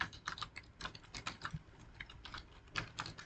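Rapid typing on a computer keyboard while writing Kotlin code, a close, continuous patter of light key clicks in quick irregular bursts, with no voices.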